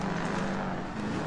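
A 22B rally car with a roaring engine passing close at speed during a rally stage, a loud, steady drone that fills the whole moment with no let-up.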